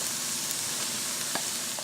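Mushrooms and browned onion frying together in oil for a spinach frittata, giving a dense, continuous close sizzle with one faint clink, and no talking.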